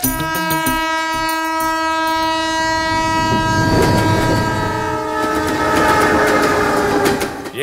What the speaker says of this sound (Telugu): అదిగో చూడు, ట్రైన్ వస్తుంది.